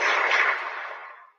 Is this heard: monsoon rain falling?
no